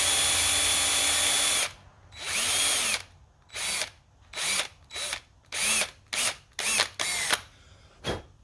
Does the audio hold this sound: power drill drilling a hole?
yes